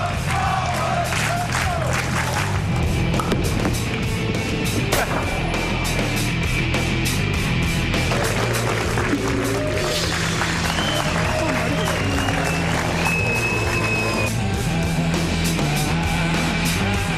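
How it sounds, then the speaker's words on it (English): Arena crowd at a 2009 world bowling championship cheering, whooping and applauding continuously, a loud dense roar with clapping and shouts over a busy background. "And the crowd is into it"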